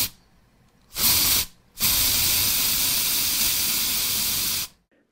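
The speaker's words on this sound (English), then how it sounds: "I got my hands on a can of WD-40 and sprayed the living beep out of those bearings" A WD-40 spray can blasting lubricant onto skateboard wheel bearings: a short hissing burst, a brief pause, then a long steady spray of about three seconds, loud and close with no voices.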